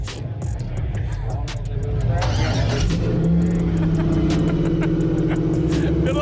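A recovered Chevrolet Monte Carlo's engine rumbles and revs up ahead of a burnout, loud and close, with rising pitch over the idle.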